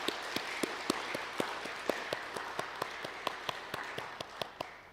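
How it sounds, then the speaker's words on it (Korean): Slow, evenly spaced claps ring out in a church sanctuary welcoming newcomers, a rhythmic beat of single sharp hand claps over a softer wash of scattered applause. "우리 이분들을 위해서 다시 한번 뜨거운 환영의 박수 부탁드리겠습니다"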